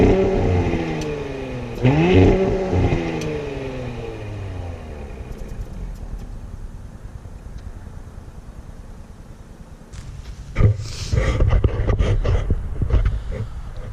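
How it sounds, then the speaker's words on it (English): A Porsche Macan GTS, heard from the cabin, revs up with rising engine and exhaust tones, then settles to a low rumble before a second burst of throttle brings rough, clattering growl. "this car does do that thing where it amplifies the sound of the engine and exhaust on the inside"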